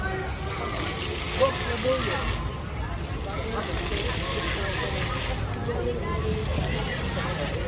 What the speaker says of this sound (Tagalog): Likod lang ng fountain dito sa ano, Farmers Market.